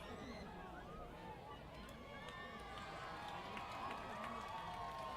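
Crowd at a minor league baseball game between the Rocky Mountain Vibes and Glacier Range Riders, a distant, steady murmur of fans with scattered cheers and claps rising slightly toward the end, under faint talk.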